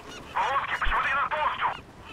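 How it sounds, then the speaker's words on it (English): Seagulls squawk in the Call of Duty: Black Ops campaign, giving a few honking, nasal cries in quick succession at moderate loudness over quiet game ambience. "Seagulls, don't do that."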